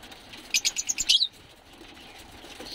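A pigeon's wings flap in a quick, close burst of about a second, then the sound fades to quiet background hiss.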